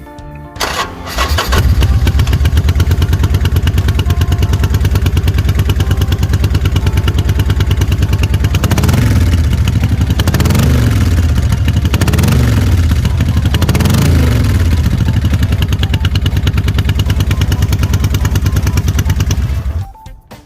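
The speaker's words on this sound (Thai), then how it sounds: "เดี๋ยวมาลองฟังเสียงท่อกันสักนิดนะครับ" A 2013 Harley-Davidson Sportster Forty-Eight V-twin engine idles loudly with a lumpy exhaust rumble, then is revved several times in quick bursts before settling back and cutting off.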